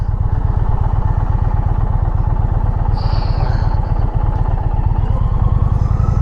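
An Indian Challenger motorcycle engine while riding, a loud, close, steady rumbling throb with an even pulsing beat throughout and some wind noise.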